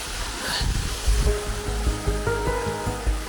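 Waves break and wash up a beach in a steady rolling roar, with low thumping surges repeating every second or so, close and fairly loud with no voices.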